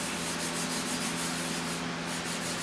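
Rust stains are scrubbed off a car's painted panel with a continuous, even rubbing and scouring noise, close and steady, with no voices.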